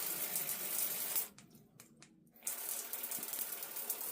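A rechargeable travel bidet sprays water against a bathtub's tiled wall, a hissing, splashing stream that cuts out briefly midway and then resumes, close and with no talk.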